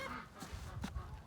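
Ducks calling nearby outdoors in cold weather, a couple of short honking quacks rising over a faint background hum.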